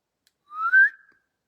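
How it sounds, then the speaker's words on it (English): A single person whistles in a dark hallway, one short rising then steady tone lasting under a second, fairly loud and close, alone in otherwise silent surroundings. "That was me whistling."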